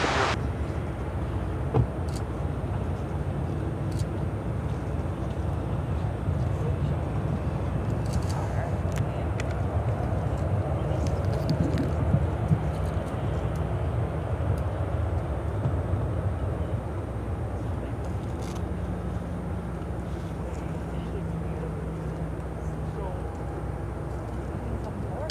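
A Korean Air Cargo Boeing 747 freighter taxis at Chicago O'Hare, a continuous broad engine roar and whine holding steady for the whole stretch, fairly loud and close without clear peaks.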